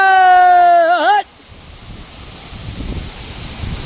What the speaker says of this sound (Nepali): यस्तो दामी चिसो हावा लागिरहेको छ कि